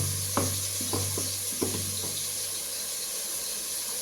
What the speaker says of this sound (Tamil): தக்காளி எல்லாம் நல்லா வசங்கட்டும்.